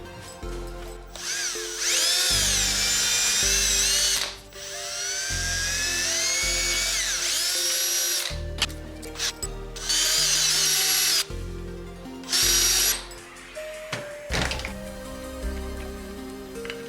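A power drill boring holes in a metal angle bracket, loud close whining bursts that rise and fall in pitch as the bit bites, several runs of a few seconds with short pauses between.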